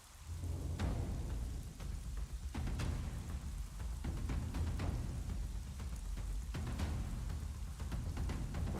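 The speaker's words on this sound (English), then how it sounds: "Oh, we're gonna do this in the rain too." Rainfall in a video game, a dense, continuous patter of drops with scattered sharper splashes and crackles, steady and fairly loud throughout.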